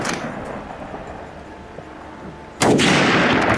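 Hunters firing guns at wild boars in open fields, one sharp shot near the start, then a sudden sustained roar of heavy distant firing toward the end over a background hiss.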